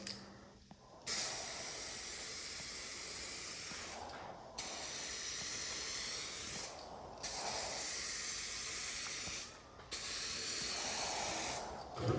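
Spray paint going onto a truck bumper for a second coat: four long hissing bursts from a spray can, each a few seconds, separated by brief pauses, close and steady, no talking.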